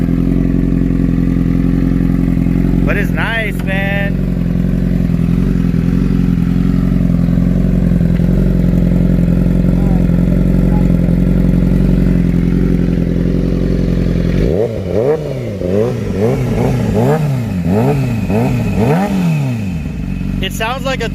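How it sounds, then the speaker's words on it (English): A custom exhaust on a Yamaha R1 1000 motorcycle idles with a steady, loud burble, then rises into a series of sharp revs near the end, while people talk nearby. "It sounds like a Two Brothers exhaust."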